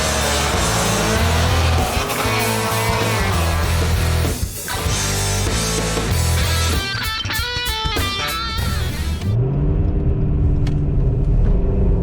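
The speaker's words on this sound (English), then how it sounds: "Just a little rev after that cold start." A ProCharger-supercharged 5.7/6.4 V8 revs after a cold start, loud and close, climbing through a few throttle blips over a rumbling idle before cutting off abruptly near the end, with no talk.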